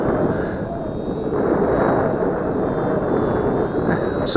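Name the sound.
XK DHC-2 A600 RC airplane flying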